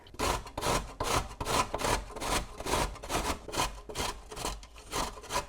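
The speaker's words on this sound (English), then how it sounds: "I'm just going to grate it coarsely." An ingredient for a pea and coconut cake grated coarsely by hand, a close, rhythmic rasping of about a dozen strokes in a steady back-and-forth pattern with no talking.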